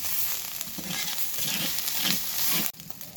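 Spice paste with ground chilli, salt and turmeric powder frying in a pan, giving a steady, dense sizzle close by that runs almost unbroken, then drops away sharply near the end.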